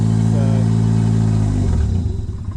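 A turbo Mazda 121 engine runs close up with a battery relocation kit fitted, a loud steady drone that settles into an uneven, lumpy idle toward the end.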